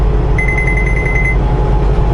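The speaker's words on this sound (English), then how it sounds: "That's what happens. It will beep." A car's lane departure warning sounds as the vehicle drifts across lane lines without a turn signal: a quick run of about ten bright, evenly spaced beeps over steady road and engine noise, then the cabin hum continues alone.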